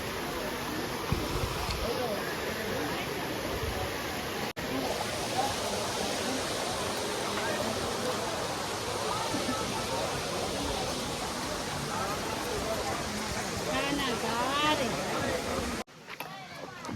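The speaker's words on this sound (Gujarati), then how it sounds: "અહીંયાથી પાણી સામેથી આવે છે" Stream water flowing along the Girnar Lili Parikrama trail in Junagadh makes a loud, continuous rushing roar throughout, with voices faintly mixed in beneath.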